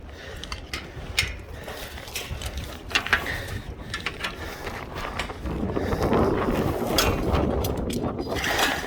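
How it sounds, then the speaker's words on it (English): Strong wind buffets the microphone outdoors during a tower climb on Maryland's Eastern Shore, with a steady low rumble, swelling louder toward the end, with some faint clicks and rattles mixed in. "It is super windy though."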